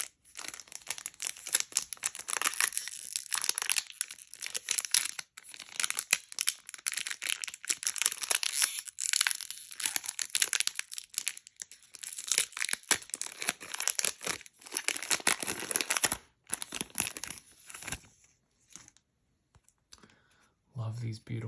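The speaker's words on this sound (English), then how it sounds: "we're going to prepare a couple sleeves because now we get into our best cards." Plastic card sleeves for Phyrexian trading cards are handled and prepared up close, giving dense crinkling, tapping and clicking that comes and goes in bursts, with a few quiet pauses near the end.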